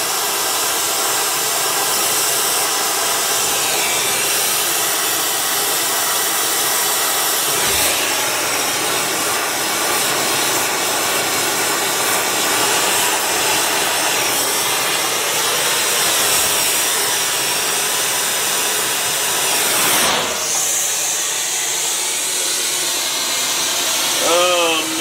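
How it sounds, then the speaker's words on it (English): An oxy-acetylene torch with a rosebud tip heats an M7 bayonet with its latch in place, making a loud, constant broadband roar that barely changes over the whole span. "Using a rosebud on the torch."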